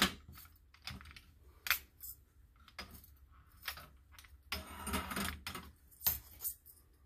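Small black and white plastic hull screws clatter and click as they are sorted into a little screw container while building a Millennium Falcon model; quiet, irregular ticks and rattles with a brief busier jingle, no speech.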